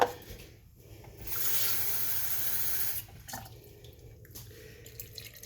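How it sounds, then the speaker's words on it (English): Water poured from a tap or jug into a salted play dough mixture, a steady splashing stream lasting about two seconds, with quieter drips and handling sounds before and after. "after the salt, we're going to add water"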